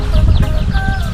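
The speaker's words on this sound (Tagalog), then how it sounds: "ayun manok may mga sisiw siya" A hen with chicks clucks softly over loud low rumbling noise beside a corn field, a few short calls close by.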